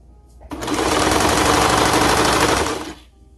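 Sewing machine stitching a quarter-inch seam on striped girls' leggings fabric; one loud, continuous burst of rapid needle clatter lasting about two and a half seconds, close up, with no talk.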